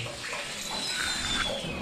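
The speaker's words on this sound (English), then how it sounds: "They got a waterfall similar to this and the one in Sheffield with a little bridge and everything" Steady, close water rush from an indoor waterfall inside a buffet restaurant, a continuous splashing hiss with no talk over it.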